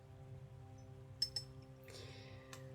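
Heavy dark green glass Hermès Eau d'Orange Verte cologne bottle gives a few light clinks and a brief scrape, close and quiet over a steady low hum.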